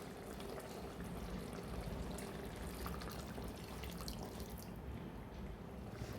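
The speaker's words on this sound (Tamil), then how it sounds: "இந்த ஸ்டேஜில் புளி தண்ணியை நம்ம ஆட் பண்ணிக்கலாம்." Tamarind water pours steadily into a pot of fish curry, a continuous close splashing and trickling liquid sound with no talking.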